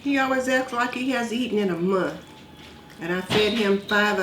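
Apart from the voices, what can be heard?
No everyday noises stand out.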